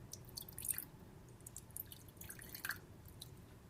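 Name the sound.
liquid dripping from a shaken bottle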